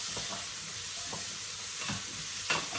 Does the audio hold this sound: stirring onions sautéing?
yes